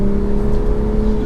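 Interior of a stock Toyota Supra on wheel spacers driving through turns, a loud, steady engine drone with a held tonal hum and road rumble throughout.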